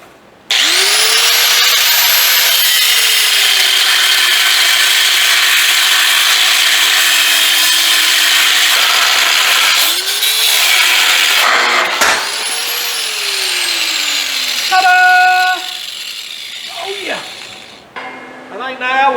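An electric grinder on a long cord cuts into a homemade trailer frame, a loud, sustained whine that wavers in pitch for about fifteen seconds before winding down amid lighter clanks.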